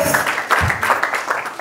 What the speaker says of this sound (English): Give her a round of applause as she takes the mic and starts to speak to us.